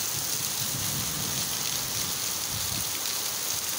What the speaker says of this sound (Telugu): వర్షం చూడండి ఒకసారి మీరే చూడండి